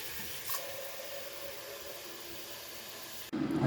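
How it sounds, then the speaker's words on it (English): An electric kettle heats water in a hotel room, giving a steady low hiss and rumble that holds evenly before a sudden louder, rougher surge near the end. "I didn't know kettles were this loud."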